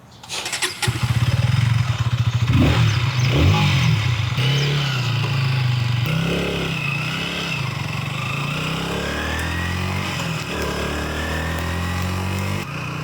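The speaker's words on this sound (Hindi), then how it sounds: "सो आइए अब चलते हैं इसकी ड्राइव पे और करते हैं इस बाइक को ड्राइव" A 2025 KTM Duke 160 motorcycle starts up and rides off, its single-cylinder engine revving and then settling into a steady loud drone as it cruises.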